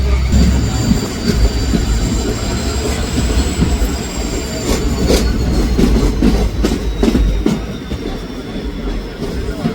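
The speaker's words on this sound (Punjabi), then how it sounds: "ਇਹ ਹੈ ਦਾਦਰ ਐਕਸਪ੍ਰੈਸ ਜੋ ਕਿ ਇਸ ਵੇਲੇ ਇੱਥੇ ਪਹੁੰਚੀ ਆ" A train rumbles past at close range, wheels clattering in an irregular rhythm, with a thin metallic squeal running high above the steady low roar.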